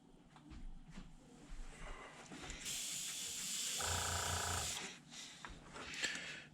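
An airbrush spraying paint onto a crankbait fishing lure hisses steadily for a couple of seconds, with a soft mechanical whir underneath, close and fairly loud.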